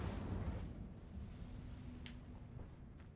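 The Incendio fire spell in Hogwarts Legacy is cast as a deep rumbling whoosh and burst that fades into a low sustained roar, with a faint crackle near the end. The sound is heard alone.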